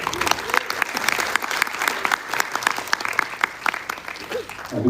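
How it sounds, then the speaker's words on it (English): A large audience at a MonstaCon 2022 animation event claps loudly and steadily, a dense wash of applause that carries on throughout, with a few voices audible within it. "Because you clap so loud"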